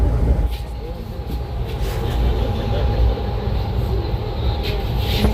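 A train approaching Mangalore railway station rumbles steadily along with a constant low roar and rattling, a faint tonal whine running through it, heard from inside.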